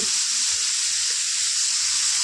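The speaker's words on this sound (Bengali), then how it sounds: "এখন নুন হলুদ দিয়ে নাড়াচাড়া করব সুন্দর করে নিয়ে" Yardlong beans sizzle in a hot pan with salt and turmeric, giving a steady close frying hiss throughout, broken by faint stirring sounds.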